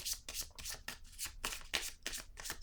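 Tarot cards shuffled by hand for a reading, a quick run of about eight crisp riffling bursts in steady rhythm, close and fairly quiet, with no talking.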